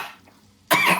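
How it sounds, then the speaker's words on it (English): A single harsh, wet-sounding cough bursts out after a near-silent pause, loud and close, from a tiefling woman regaining consciousness and coughing up blood in a tabletop fantasy game scene. "She begins to cough up some blood, right, as she kind of comes back to consciousness."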